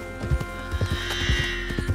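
A horse in the video game Red Dead Redemption 2 whinnies and snorts while its hooves clop in an uneven rhythm, close and fairly loud over a steady game background.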